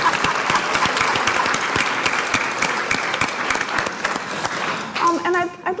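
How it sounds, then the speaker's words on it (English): A crowd applauds steadily with dense clapping throughout, fading near the end as a voice begins speaking. "Let's give them a round of applause."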